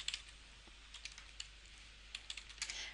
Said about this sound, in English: I'll use the Shift key, press Enter, let go of the Shift key, press Enter again